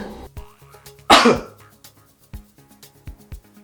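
One loud, explosive cough, brought on by the vapour of absinthe, bursts out near the start, with scattered quieter vocal sounds and movement before and after it.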